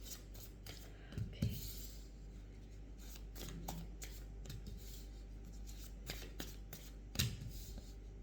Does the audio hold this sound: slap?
no